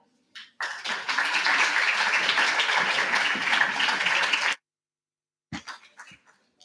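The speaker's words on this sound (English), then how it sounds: "another big applause" Audience applause at a 2022 graduation ceremony in Barcelona, a dense burst of clapping lasting about four seconds before stopping abruptly, then a few scattered claps.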